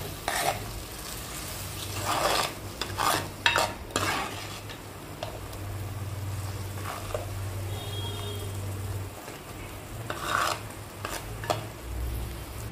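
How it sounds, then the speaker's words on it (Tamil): Arai keerai kadayal, an amaranth spinach dish, is stirred in a pan as it simmers, with soft scraping and sloshing and a low steady bubbling hum, no voices. "கீரை இதில் ஊற்றிட்டு நல்லா மிக்ஸ் பண்ணி விட்டுட்டு சும்மா ஒரு ரெண்டு கொதி கொதிக்கிற அளவுக்கு மட்டும் விட்டுட்டு"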